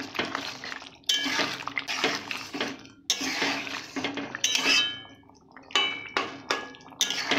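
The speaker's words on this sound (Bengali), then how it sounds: "আলুগুলো এইভাবে ঘেঁটে দেব।" Potatoes mashed in a metal pan for a home-style vegetable curry, with repeated scraping and clinking strokes in uneven bursts, close and fairly loud.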